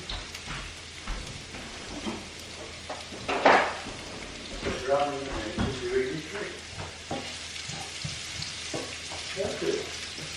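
Onion frying in a pan gives a steady, moderate sizzle with occasional stirring clatter and a few brief clanks. Voices speak intermittently over the cooking noise.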